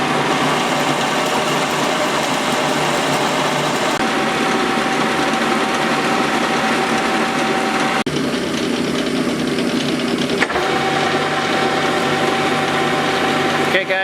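A metal lathe cuts a 5/8-18 thread on a shackle bolt for a Jeep M715 Gladiator pickup, a steady loud motor hum with a faint cutting whine running throughout, shifting briefly at two points.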